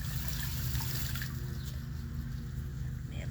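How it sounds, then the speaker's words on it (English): Water in a garden pond stirred up while mint and gunk are being cleared out, a steady low churning and trickling that runs unbroken and fairly close throughout. "May have just disturbed more gunk into the water"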